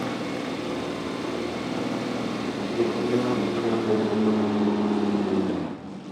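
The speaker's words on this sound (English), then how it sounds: "Listen to that exhaust note." A 1957 Ferrari 335 S Spider Scaglietti, a works Scuderia Ferrari racer, runs with a loud, steady engine and exhaust note, its tone swelling partway through before cutting off near the end.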